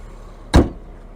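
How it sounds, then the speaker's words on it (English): The hood of a 2023 Nissan Maxima shuts in a single soft, close thump, brief and muted against a quiet background. "Like how easy the hood is to close. Don't have to slam it."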